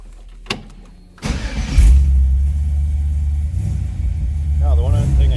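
A 1948 Chevrolet Fleetmaster coupe street rod engine cranks briefly, then catches and settles into a loud, steady warm-up idle close by, with a slight rev swell near the end.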